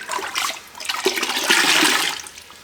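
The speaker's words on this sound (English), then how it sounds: "wring it out, not all the way, you want some nice water" A wash sponge soaked in rinseless car wash solution is squeezed out, giving a gushing, splashing rush of water that rises, holds for a moment, then tapers off. The sound is close and fairly loud.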